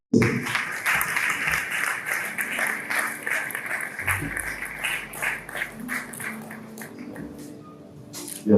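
Applause from a crowd at a church conference, moderately loud clapping with some crowd noise that continues for several seconds at an uneven level.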